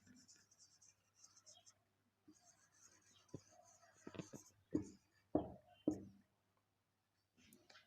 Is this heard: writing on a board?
yes